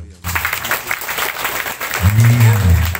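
An audience at a religious dhikr gathering breaks into lively applause for a rice trader being introduced, clapping building and holding, with a low voice rising near the end.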